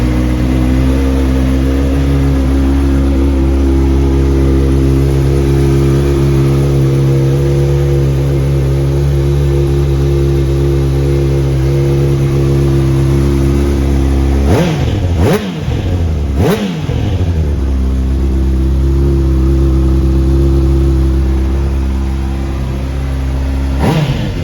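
A 2009 Honda CBR600RR Splash edition with an Akrapovic exhaust idles steadily and loudly at close range, then is blipped in two or three sharp revs before settling back to idle.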